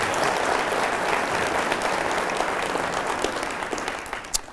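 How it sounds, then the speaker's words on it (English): An audience claps steadily for city council members at a State of the City presentation, a dense, sustained round of applause that gradually thins toward the end. "So let's give them a round of applause."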